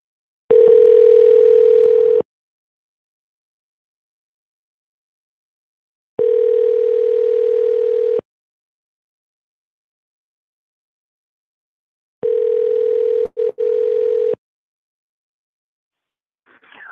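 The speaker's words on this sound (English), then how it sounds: "So let's give him a call." Telephone tone sounding in three steady, loud beeps of about two seconds each, separated by long silences, with a brief interruption in the last one, clear and alone with no speech.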